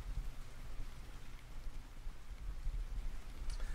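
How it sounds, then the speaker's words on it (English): Light rain falling outdoors at a lake on a fishing trip, a steady close patter of drops on surfaces with soft, continuous hiss and no voices. "We got a little rain coming down."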